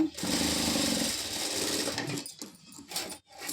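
A sewing machine stitches a T-shirt collar, its motor whirring loudly and steadily for about two seconds before stopping, followed by a few softer handling sounds.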